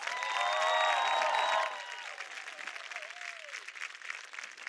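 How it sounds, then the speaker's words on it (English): A graduation crowd applauds with whistles and cheers mixed in, loud and full at first, then thinning abruptly after about two seconds into lighter scattered clapping. "Let's give them a round of applause."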